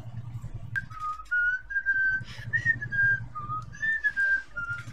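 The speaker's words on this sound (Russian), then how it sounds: "Хуйню свищу." A person whistles a meandering tune alone and close by, a clear sequence of sustained notes with short pauses, over a faint low hum.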